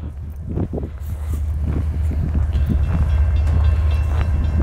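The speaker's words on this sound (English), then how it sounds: "we got Norfolk Southern 179 coming here." A Norfolk Southern mixed freight train rolls past on a southbound run in Marion, Ohio, with a heavy low rumble and rhythmic wheel clatter building steadily in loudness as the cars pass close by.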